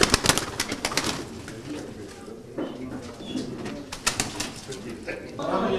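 Turkish tumbler pigeons cooing and calling at a bird auction, with a busy crowd and talk around them, the bird sounds rising and falling in short bursts across the scene.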